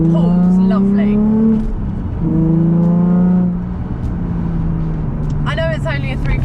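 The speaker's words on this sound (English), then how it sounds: "this car feels so together and it pulls lovely" A Nissan 350Z GT with a full drift package and BC coilovers accelerates hard, its engine note rising steadily through the gears in close, loud pulls with brief dips at the shifts.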